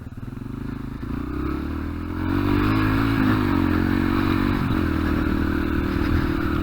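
A Yamaha TTR125 dirt bike engine drones and then revs up louder, with scraping and crackling as it rolls over rough, grassy ground off any track.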